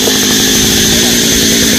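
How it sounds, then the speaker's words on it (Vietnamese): A chainsaw cuts through a hog plum tree, its engine screaming loud, steady and continuous at close range, with no voices heard. "cưa cây cóc."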